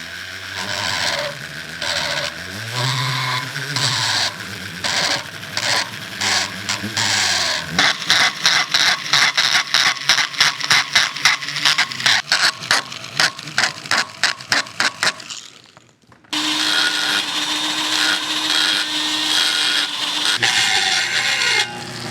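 Grinding on a steel bicycle chain stay tube in a workshop produces a loud, steady harsh whir, then a run of rapid rhythmic pulses, then a brief drop before the sustained grinding resumes.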